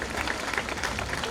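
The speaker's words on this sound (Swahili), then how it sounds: "Pigieni makofi mgeni wetu wa heshima, makofi mengi, makofi zaidi please." A crowd at the 13th graduation ceremony of Machakos Institute of Technology applauds the chief guest, a dense, steady wash of many hands clapping throughout with no break.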